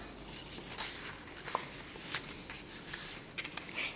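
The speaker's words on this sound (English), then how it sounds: "Crease that really good with your fingers, scissors, whatever you have" Fingers creasing folded paper for a corner bookmark, giving soft scattered rustles and brief sharp swipes, close and faint, with no talk.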